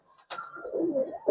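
A male Giribaz aluminium silver pigeon gives a short, close, throaty coo that rises and wavers over about a second, heard alone.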